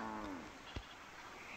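A cow by a river lows in the distance, a drawn-out harmonic moo fading over steady outdoor background noise.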